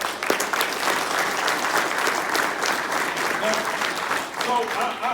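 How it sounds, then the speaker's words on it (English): Audience applauding at a political gala speech in North Carolina, sustained dense clapping from a large indoor crowd that continues steadily for several seconds with a slight swell near the end. "And we applaud you for it."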